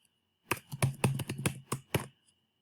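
A computer keyboard clicks through a quick burst of about ten keystrokes at close range, uneven in rhythm, with no talk over it.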